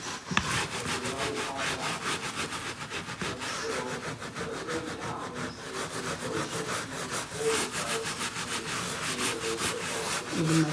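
Steady back-and-forth scrubbing of a Mr Clean Magic Eraser rubbing paint off a washroom surface, a continuous gritty rubbing texture with rhythmic strokes, close and fairly loud throughout.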